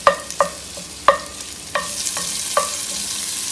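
Bacon frying in a hot pan for a chicken stew, giving a steady sizzle broken by several sharp, close spits and pops at irregular moments, with no talking.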